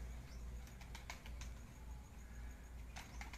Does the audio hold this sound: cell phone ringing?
no